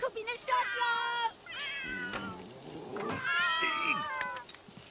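A cat in The Sims 3 meows several times in drawn-out, wavering calls, fairly close and clear, while a person talks over and between the meows.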